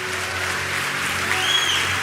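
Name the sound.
church congregation applauding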